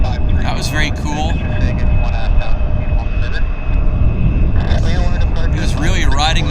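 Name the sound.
airplane landing nose high on Vancouver airport runway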